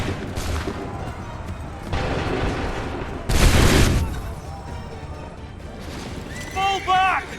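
Musket volleys crack out in the video game Assassin's Creed III, loud broadband bursts of massed gunfire, the heaviest near the middle, over a din of battle, with shouted voices and horn-like tones toward the end.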